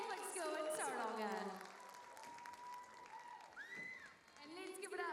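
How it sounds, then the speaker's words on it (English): Applause follows a St. Mary's Catholic School performance at a Tauranga school show, lying soft and thin beneath an announcer's loud voice, with a brief whistle-like tone partway through. "Keep giving a big round of applause to your seventh performance of the night, St. Mary's Catholic School in Tauranga."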